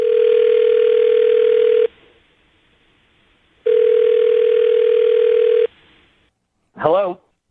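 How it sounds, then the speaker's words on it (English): A loud steady telephone dial tone sounds twice with a pause between, followed by a brief burst of a voice. "We'll dial his phone number and see if we can figure it out for you"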